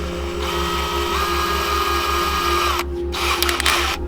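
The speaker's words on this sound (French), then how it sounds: "je vais venir rajouter ce genre d'accessoire à l'intérieur de la perceuse" A power drill runs steadily with an accessory fitted in place of the bit. It gives a loud, rhythmic whirring hum with a regular pulsing beat and briefly cuts out near the end.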